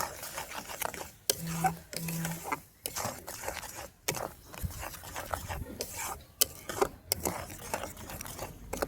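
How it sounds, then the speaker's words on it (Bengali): Ground spices, including coriander powder and dry mango powder, are stirred and mixed in a bowl for tamarind candy, close scraping and rubbing strokes with brief pauses and a couple of short metallic clinks. "এগুলোকে মিক্স করে নেব।"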